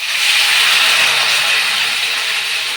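Chicken sizzling in hot oil in a pan seasoned with cumin, mustard seeds and curry leaves, a loud, steady, close hiss and crackle with no one talking.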